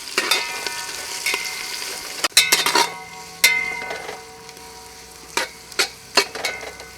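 Onion sautéing in a pan for pavta rice, a steady sizzle broken by scraping stirs and sharp metallic clinks of a spoon against the pan, loud and close, with no talking.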